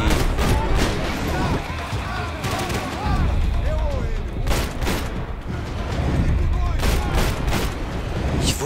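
Enemies open fire in Max Payne 3, with repeated sharp gunshots and bursts cracking over a constant din. Someone talks over the shooting throughout.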